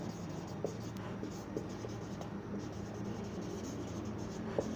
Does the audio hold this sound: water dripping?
no